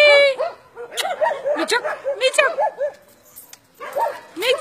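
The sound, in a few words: dog barking and yipping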